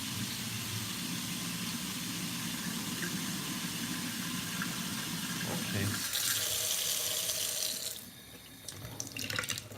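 Warm water running steadily from a kitchen tap for a recipe, a loud continuous splashing stream that shifts in tone partway through and then eases off, with a brief spoken word.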